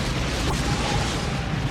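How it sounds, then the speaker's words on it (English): A loud, dense explosion from an action film with stunt work, a continuous deep rumbling boom filling the whole stretch without a clear start or pause. "Oh, I love explosions."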